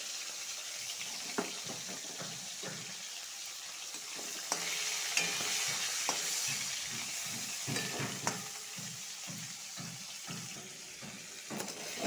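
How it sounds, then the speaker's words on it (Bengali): Fish heads fry in hot oil, giving a soft, steady crackling sizzle broken by intermittent stirring scrapes and light clicks. Quiet overall, with no talking. "মাছের মাথাটা ভালো করে ভাজা করে নিব।"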